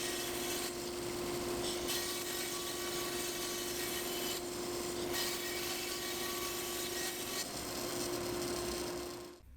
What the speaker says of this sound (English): I just went ahead and ripped that piece down to size